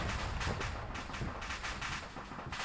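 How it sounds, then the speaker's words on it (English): Repeated heavy booms and blasts of mortar fire on an ARMA 3 battlefield, arriving in an irregular stream of thuds over constant noisy rumble. "They're still mortaring."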